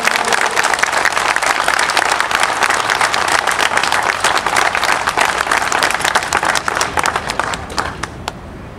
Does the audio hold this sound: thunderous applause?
yes